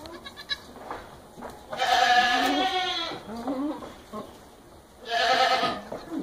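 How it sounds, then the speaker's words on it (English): Newborn baby goats give two loud, wavering bleats a few seconds apart, close by, with faint rustling between the calls. "brand new born goats trying to stand up for the first time."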